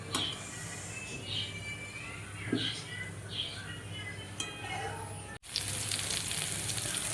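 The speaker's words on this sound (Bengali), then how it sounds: "সয়াবিনটা আমি দিয়েছিলাম, দিয়ে সয়াবিনটা আমি ভাজছি" Soybean chunks fry in a pan with a soft, continuous sizzle and scattered light crackles, heard up close but quiet, with a brief clunk near the end.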